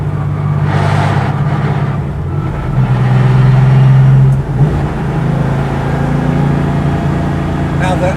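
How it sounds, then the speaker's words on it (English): Porsche 993 Carrera RS Clubsport, an air-cooled street-legal race car, driven as it shifts through the gearbox: a loud, close engine drone rising in pitch, a brief dip at a gearchange, then pulling again, with faint talk over it. "I'm just shifting through the gearbox."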